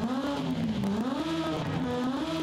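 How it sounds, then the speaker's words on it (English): A revving inline-four motorbike engine in Forza Horizon 5 drones steadily with a wavering pitch, rising and falling slightly, loud and continuous with no talk. "let's go to the inline four motorbike engine"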